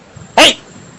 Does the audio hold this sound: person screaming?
no